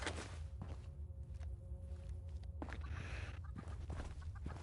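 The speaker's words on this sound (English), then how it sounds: "I'm hearing chickens" Chickens cluck in the Fallout 76 Steel Reign update, several short bird calls scattered over steady in-game ambience and footsteps, moderately close and not very loud.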